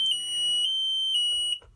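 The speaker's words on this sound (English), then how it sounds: "and now the alarm." A TA-1 temperature alarm sounds after an over-temperature condition, a loud steady electronic tone with short repeated pulses, then it cuts off abruptly near the end.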